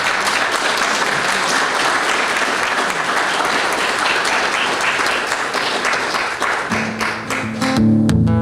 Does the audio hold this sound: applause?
yes